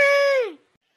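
A cartoon baby elephant stuck in a river lets out a single crying wail, about half a second long, loud and close, sliding downward in pitch before silence.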